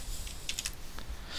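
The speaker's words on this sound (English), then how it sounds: "just type Control P" A brief keyboard shortcut pressed on a computer keyboard, a few close, quiet key clicks over a low steady room hum.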